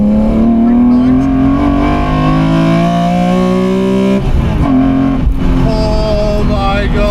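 BMW E28 fitted with an S54 engine and no traction control accelerating hard out of a hairpin, a loud rising engine note climbing steadily, dropping briefly at a gear change, then pulling up again.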